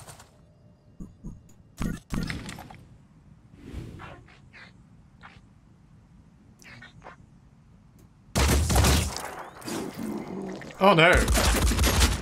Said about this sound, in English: That return fire was rather painful.